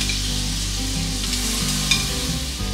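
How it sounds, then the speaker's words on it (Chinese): Lobster meat sizzles in melted butter in a hot pan, a steady close crackle over a low background hum, with one brief sharper pop near the end. "咁我想放啲牛油。 然後咧，就將啲龍蝦肉"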